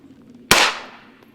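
A single rifle gunshot during shooting practice, a sharp close crack with a short decaying tail, alone against a quiet background.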